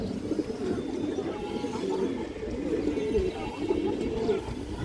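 Several pigeons coo softly and continuously nearby, their low rolling calls overlapping in a steady murmur.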